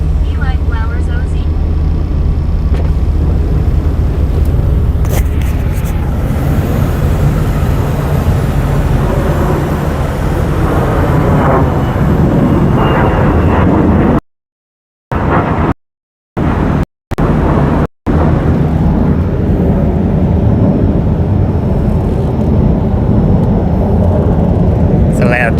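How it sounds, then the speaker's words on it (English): Loud jet aircraft roaring overhead near a highway in Arizona, a broad, heavy rumble that swells and fills the whole stretch, with a few short dropouts midway and someone talking at the start. "It's a loud jet, man."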